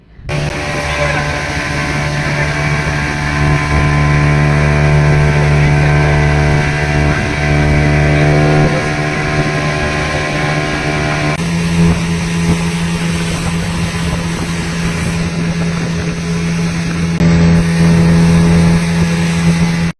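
A motorboat carries passengers across open water to Elephanta Beach on Havelock in the Andamans, its engine droning loud and steady throughout with a shift in pitch partway through.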